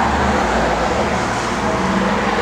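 A 1969 Chevrolet Chevelle SS with a new Flowmaster dual exhaust, sounding as a continuous loud low engine drone with a traffic-like roar, steady throughout and without speech.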